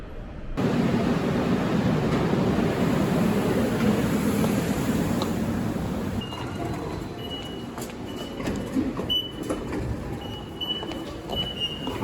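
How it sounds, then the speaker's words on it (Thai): Steady rumble of a moving metro train carriage in Seoul, heard from inside while riding, with continuous low rolling noise and faint rattles and squeaks; the din eases a little partway through. "ส่วนเราก็มานั่งรถไฟฟ้าเพื่อที่จะไปฮงแดกันต่อนะคะ"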